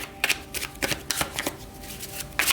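Tarot cards shuffled by hand, a quick series of close, crisp riffling flutters and soft slaps in an irregular rhythm, with no talking.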